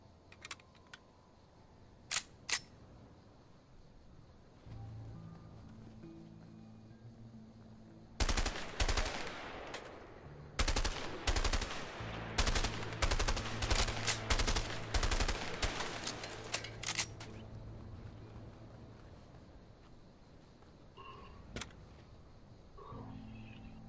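M16 rifle fired on a practice range in the video game A Way Out: after a few scattered clicks and pops, a dense run of rapid, loud shots rings out for about nine seconds, then stops.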